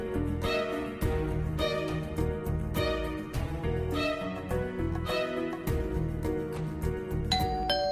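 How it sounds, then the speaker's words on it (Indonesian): A doorbell chime rings in a home scene from an Indian drama series, its bright tonal ding-dong notes repeating steadily over a dense, loud musical background. "Bel pintu sudah diperbaiki, AJ."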